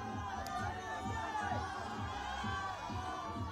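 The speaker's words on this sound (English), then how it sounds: "Hometown crowd is getting loud now, cheering him on." A large hometown crowd at an ice climbing World Cup lead final in Champagny, France cheers and roars steadily in the distance, a continuous wash of voices with rhythmic thumping underneath.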